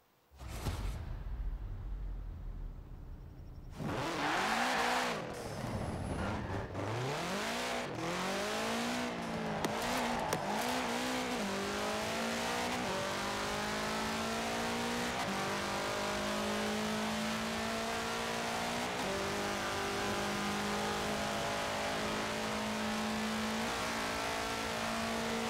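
A 1966 Volkswagen Beetle fitted with a 2.5-litre flat-four turbo engine in Forza Horizon 4 fires up and revs hard, then settles into a loud, steady, droning engine note with rising gear pulls and a hint of tire squeal, no voices.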